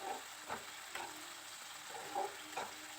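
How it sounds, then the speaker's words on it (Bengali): Spice paste for a vegetarian cauliflower roast sizzling in a pan over a medium flame, a soft steady fizz with several gentle stirring scrapes at irregular intervals, fairly quiet and close. "গ্যাসের ফ্লেমটাকে মিডিয়াম করে দিয়ে এবার মশলাটাকে বেশ ভালো করে কষিয়ে নেব।"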